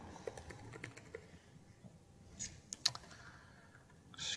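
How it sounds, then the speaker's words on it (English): Keys clack faintly on a computer keyboard in a quiet room, a scattered run of soft taps with a brief burst of louder clicks midway. "Excuse my typing."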